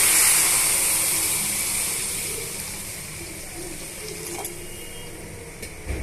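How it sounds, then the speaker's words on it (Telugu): Water is poured into roasted vermicelli in a hot pan, giving a loud, close hissing rush that slowly fades to a softer, steady bubbling. "ఈ సేమియా అంతా కూడా బాగా వేగిపోయింది కదండి ఇప్పుడు ఇందులోనే మనం ముక్కాలు భాగం వాటర్ పోసుకోవాలండి"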